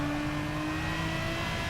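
Aston Martin DBR9 race car in Gran Turismo Sport, its engine a steady, loud, buzzing drone held at high revs through a corner, with no voices.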